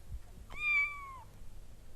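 A single kitten's meow, a short tonal cry rising then holding and falling away, faint over quiet room tone.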